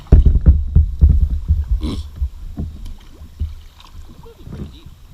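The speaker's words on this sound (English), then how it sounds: "I could hear my boat pushing through this water." Close, low sloshing and gurgling of water against a kayak hull on the Allegheny River, irregular surges fading slightly, with wind buffeting the microphone.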